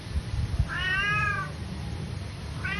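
A hungry pet cat meows twice, a clear drawn-out mew followed later by a shorter one, against a background of low hum and faint thumps.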